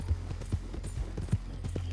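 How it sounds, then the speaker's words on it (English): Horse hooves clip-clop steadily in the video game Red Dead Redemption 2, a close, even walking rhythm of light thuds over a low, continuous background hum. "Oh goodness, this damn horse."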